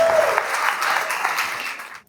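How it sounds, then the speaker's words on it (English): Audience at a horror short film contest awards event applauds themselves, a full, dense round of clapping that holds steady, then fades out at the end. "You guys clap it up for yourselves."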